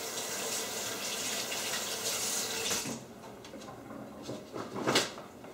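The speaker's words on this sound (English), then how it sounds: "I'm just going to rinse my hands." Running tap water splashes steadily over hands at a kitchen sink during apple pie baking, a continuous close rush for about three seconds that then drops to quieter intermittent splashes and a final burst.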